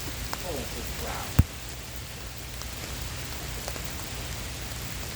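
Steady rain falls outdoors as a continuous broadband patter, with one sharp close knock partway through and a few faint drips over the wash.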